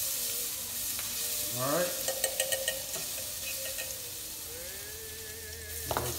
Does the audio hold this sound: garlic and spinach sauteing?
yes